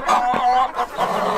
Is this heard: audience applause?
no